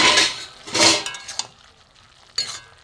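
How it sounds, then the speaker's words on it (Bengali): A lid lifted off a pot of simmering ash gourd, with short metallic clinks and scrapes in a few quick bursts, close and fairly loud, followed by quieter bubbling. "ঢাকাটা খুলে দেখবো কেমন সেদ্ধ হয়েছে।"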